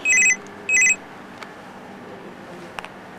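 Two short electronic telephone ring bursts sound in quick succession at the start, bright and fairly close, followed by quiet room tone with a couple of faint clicks.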